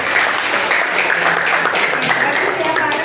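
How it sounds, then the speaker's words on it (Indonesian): Classroom applause for a student named Farel after a lesson on electrolyte solutions, a brisk, dense patter of clapping hands lasting a few seconds with voices mixed in. "tepuk tangan untuk Farel"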